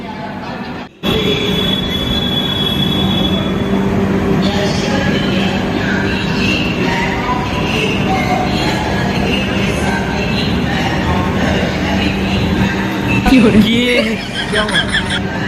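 A train at a busy railway station, with a continuous rumble and metallic wheel squeal under crowd noise and nearby talking.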